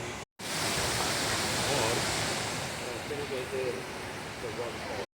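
A waterfall roars in a dense, steady rush of falling water, loud and close, filling the whole clip with continuous noise.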